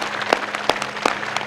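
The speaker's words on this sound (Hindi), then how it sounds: "बस जोरदार ताली बता दो" Bursts of applause from an audience at a yoga session, several loud claps in uneven rhythm over a steady low hum.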